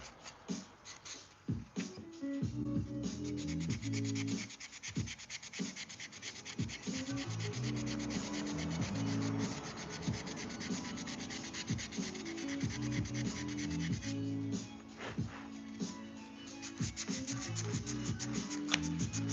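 Wooden knife being hand sanded, with steady rasping strokes of abrasive on wood running continuously and fairly loud, rhythmic back-and-forth scrubbing with little pause.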